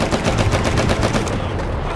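Rapid bursts of battlefield gunfire and machine-gun fire from the war film Hacksaw Ridge, dense and continuous with sharp repeated cracks over a low rumble, loud throughout.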